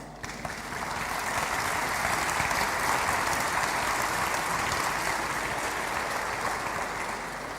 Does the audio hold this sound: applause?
yes